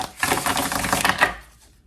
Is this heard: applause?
no